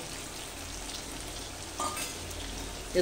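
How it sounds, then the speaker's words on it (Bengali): Hilsa masala cooking down in oil with whisked sour yogurt, for a hilsa and cashew curry, gives a steady, fairly soft sizzle throughout with a couple of brief louder stirring bumps near the end. "দইটা দিয়ে আমি আরো 2 থেকে 3 মিনিট মতন কষে নিলাম"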